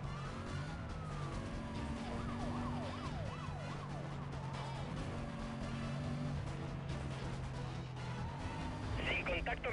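A police car siren wails and sweeps up and down over steady engine drone in the racing game Need for Speed Most Wanted, and the sound ends in a brief burst of crashing noise.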